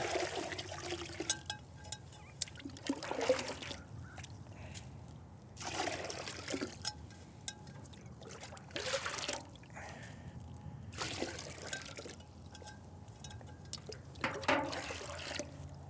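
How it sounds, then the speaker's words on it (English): Warm water trickles and splashes into a working basin for laundry in several bursts, pouring in short runs with quiet gaps between, moderately close and fairly soft. "we can start transferring some of our nice warm water into our working basin over here"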